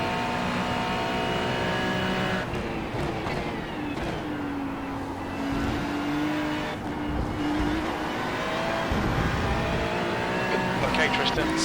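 Race car engine in the iRacing simulator, sliding in second gear with wheel spin: a steady loud engine drone with shifting pitch and tire scrub throughout, with a voice talking over it.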